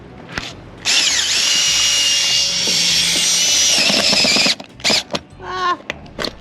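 A handheld drill bores holes into a car body, one sustained loud whining run of several seconds, followed by short bursts as the bit starts and stops.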